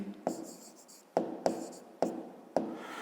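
A pen writes an answer in a notebook, with quick scratchy strokes close up, each starting with a sharp tap and fading, repeated about five times in an uneven rhythm.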